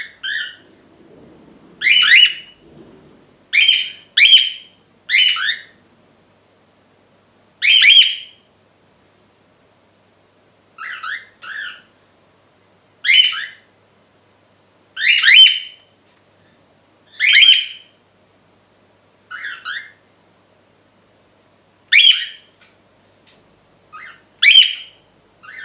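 Female cockatiel giving repeated shrill, rising call notes, about a dozen separate bursts spaced irregularly with silent gaps between, close and clear with no other sound.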